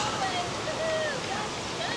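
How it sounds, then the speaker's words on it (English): A river rushes beside a trail during the Ogden Marathon, a steady, broad watery roar heard up close, with faint voices beneath it. "Crossing the river"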